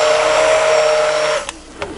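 A blender whirs steadily and loudly through goat's milk soap batter with oatmeal for hot process soap, then cuts out, leaving a couple of faint clicks.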